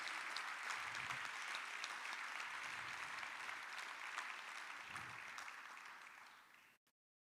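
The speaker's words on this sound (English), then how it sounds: "Please give her a huge round of applause for that." Sustained applause from a crowd at a Bharatanatyam arangetram fills the room, steady and dense, then fades out toward the end.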